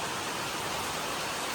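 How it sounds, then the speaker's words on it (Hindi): Heavy monsoon rain pours down at a Konkan Railway station, a dense, unbroken hiss of downpour that holds steady throughout with no voices. "बाकी बारिश यार बहुत तड़ातड़ हो रही है"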